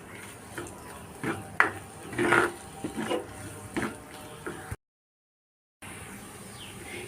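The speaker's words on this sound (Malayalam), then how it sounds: "ഇനി ഇതിലേക്ക് പുളിവെള്ളം ഒഴിച്ചു കൊടുക്കാം" Tamarind water poured into a simmering mackerel curry, with a watery splash and scattered clinks and stirring knocks of a pot and utensil, close and moderate, ending in a brief silence before the cooking noise resumes.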